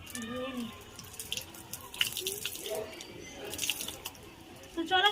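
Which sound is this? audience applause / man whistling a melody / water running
water running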